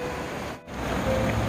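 Rain falls at Wolhwatan, a waterfall in the Muju Gucheondong mountain valley in Korea, making a steady, dense hiss of water that dips for a moment and then continues evenly.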